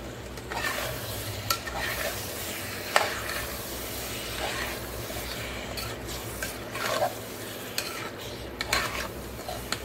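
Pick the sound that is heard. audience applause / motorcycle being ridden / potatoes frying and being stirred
potatoes frying and being stirred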